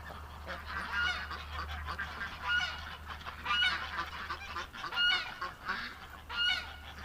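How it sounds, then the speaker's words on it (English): Ducks worked up and excited at a farm with a barn, a continuous flock chorus of loud honking and quacking calls layered over a steady low rumble. "got all the ducks worked up here"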